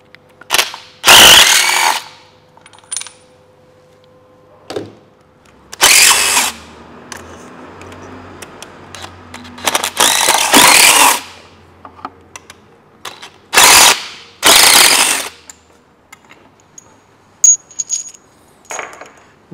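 A long 6 mm hex socket loosens the intake manifold bolts on a Kia/Hyundai V6, heard as bursts of clicking ratchet and metallic tool noise separated by quiet pauses, loud and close.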